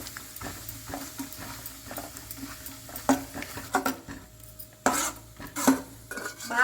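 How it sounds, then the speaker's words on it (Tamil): Almonds and pistachios are stirred in hot ghee in a pan, with scraping clinks of a metal spoon against the vessel and a faint sizzle underneath, in uneven bursts. "பாதாம் பிஸ்தாவுமே நல்லா வறுபட்டுச்சு பாருங்கள்."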